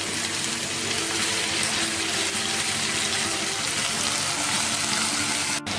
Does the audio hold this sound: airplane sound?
no